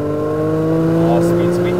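A 1999 Nissan Stagea 260RS wagon with the GT-R powertrain revs high toward 8,000 RPM, a loud, steady tonal engine wail held throughout with slight rising pitch near the end.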